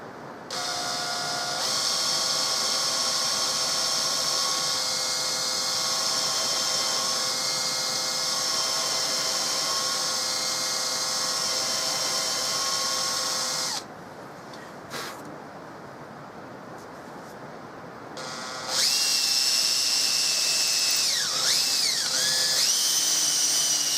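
A steady high-pitched drill whine runs for long stretches, briefly stopping, then resuming with a shifting pitch as it bites into not-quite-cured super glue on a Winchester rifle stock.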